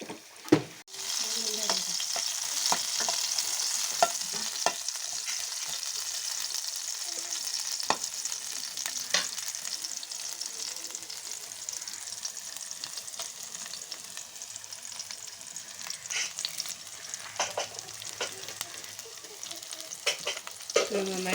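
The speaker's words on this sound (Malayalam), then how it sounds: "2 ടീസ്പൂൺ വെളിച്ചെണ്ണ ഒഴിച്ചിട്ട് അതിനകത്ത് ചെറിയ ഉള്ളി, 2 വറ്റൽമുളകും കറിവേപ്പിലയും കൂടെ താളിച്ചെടുക്കാൻ വേണ്ടിയിട്ട് എടുക്കാമേ" Shallots, dried red chillies and curry leaves frying in coconut oil for a tempering: a continuous close sizzle with repeated clicks and scrapes of stirring, all on its own.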